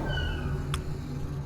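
A cat meows once in the video game Toilet Spiders, a clear tonal cry with a falling pitch, heard close and alone over a faint game background.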